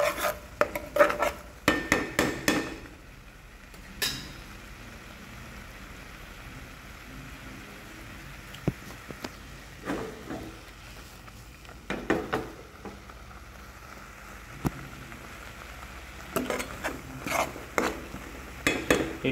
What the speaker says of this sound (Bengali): ততক্ষণে আপনাকে এভাবে কন্টিনিউয়াসলি নাড়িয়ে যেতে হবে